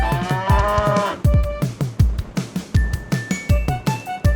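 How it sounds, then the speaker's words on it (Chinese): A cow's moo sounds at the start, a harmonic low call over the first second, followed by a run of rapid, punchy percussive hits with bright tonal accents. "牛"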